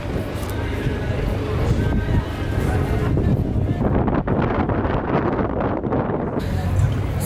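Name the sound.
strong wind blowing outdoors in Edinburgh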